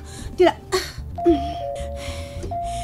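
A doorbell chimes a few bright tones, followed by a sustained electronic ring, with some shuffling and background noise around it.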